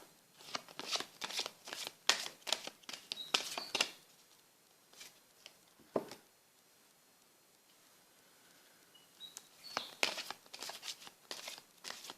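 Oracle cards are shuffled and laid down in quick bursts of crisp riffling and flicking, close and quiet, with a pause of near silence before more handling resumes.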